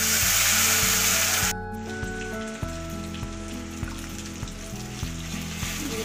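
A ground spice paste hits hot tempering oil for chicken maharani, giving a loud broadband sizzle at first that then settles to a quieter steady fry under a rhythmic tonal background.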